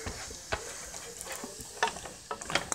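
A pound of ground chuck browning in a pan gives off a soft, continuous sizzle, broken by occasional scrapes and taps of a utensil stirring the meat.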